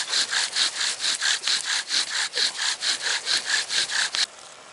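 A bow drill saws back and forth, driving a wooden spindle against a fire board to make fire; about fifteen rhythmic, evenly spaced rasping strokes, loud and close, then the friction stops abruptly.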